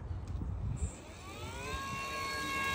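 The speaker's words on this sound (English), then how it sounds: "picking up the rear wheel so we can hear this motor, kind of compare noise" Lightweight e-bike hub motor spinning up with the rear wheel lifted off the ground, a rising electric whine with faint mechanical hum, steady and close after a brief rustle at the start.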